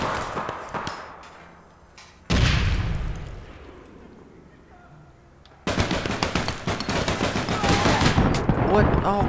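A frag grenade goes off in APB Reloaded as a loud sudden blast that rumbles and decays, followed by rapid bursts of gunfire and game noise that fill the rest of the moment.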